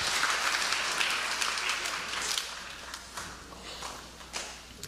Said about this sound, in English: I'd love to give another round of applause.